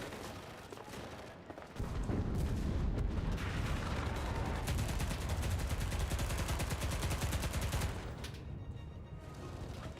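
Sustained gunfire from the video game Enlisted, a dense burst of shots and booms that starts about two seconds in, stays loud and continuous, then eases near the end.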